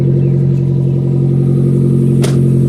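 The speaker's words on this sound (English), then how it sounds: "we'll just leave it running to idle a little bit, let it warm up" A 2000 Nissan Sentra sits idling as it warms up, a loud, steady engine drone with a strong low hum. A brief sharp click cuts in near the end.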